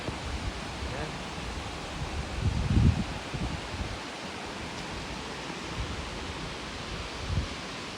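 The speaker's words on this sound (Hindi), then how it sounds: "मस्त झरना चल रहे हैं।" Waterfalls flowing in the hills along a mountain route, a steady broad rushing roar with slight swells, continuous and moderately loud, under what may be faint wind.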